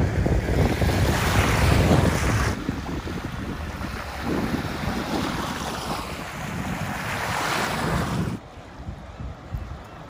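Waves break and wash ashore at the beach at the mouth of the Elwha River as the tide comes in, a loud continuous surf roar mixed with wind buffeting the microphone, dropping off abruptly near the end.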